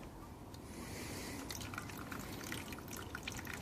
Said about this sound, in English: Now I'm watering this, and I fill it to a certain level.